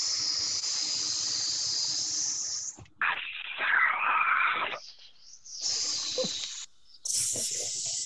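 A person imitates a snake with breathy, sustained hisses in several bursts separated by short pauses, close and fairly loud, with no other sound around them.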